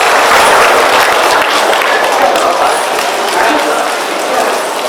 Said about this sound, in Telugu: Come on everyone, yeah big round of applause.